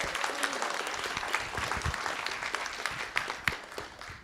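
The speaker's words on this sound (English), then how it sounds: "Let's give them one big round of applause." Audience clapping at a school board of trustees meeting to honor all-state band members: steady, moderately loud applause from a roomful of people, with a few sharper claps standing out near the end.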